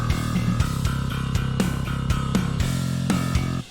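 Distorted, heavy programmed bass line played from MIDI alongside a drum pattern, with punchy repeated kick and snare hits in a steady rhythm, loud and continuous until an abrupt stop.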